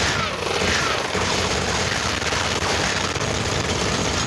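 Continuous heavy gunfire fills a People Playground sandbox scene, a loud, dense and unbroken roar of overlapping shots that lasts the whole stretch with no clear pauses.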